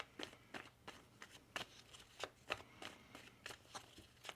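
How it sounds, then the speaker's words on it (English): Tarot cards are shuffled in a quick run of soft, papery riffles and taps, about a dozen light strikes spread unevenly, faint and close with no speech. "One more shuffle here."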